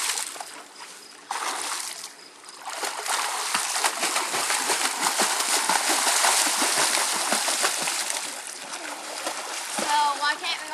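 Water splashes and sloshes continuously in a swimming pool, close and fairly loud, with people talking over it.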